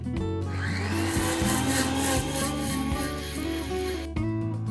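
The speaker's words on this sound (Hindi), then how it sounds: "मिक्सी कभी भी लगातार नहीं चलानी है, हमें रुकते चलते चलानी है," A kitchen mixer grinder loudly whirs and rattles as it grinds whole chai masala spices in a jar. The motor drone is harsh and continuous, with a few pitch dips, and it cuts off sharply near the end.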